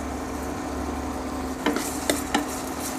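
Green chilies and curry leaves fry with salt in a pan for an Andhra-style mutton curry, giving a steady soft sizzle with a few sharp stirring clinks near the end and no talking.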